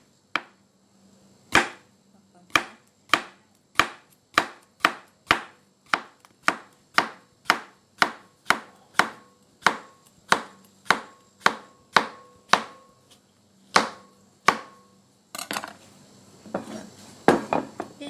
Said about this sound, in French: Et je coupe en petites tranches.